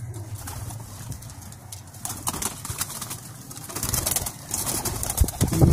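Pigeons cooing in a pigeon loft at a pigeon club, close and fairly loud: repeated soft, throaty coos overlap, with occasional wing flutters and shuffling.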